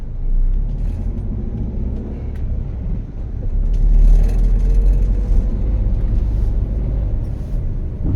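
A manual car drives slowly through traffic over road humps in first gear, its engine giving a steady, loud, close low rumble with road noise throughout.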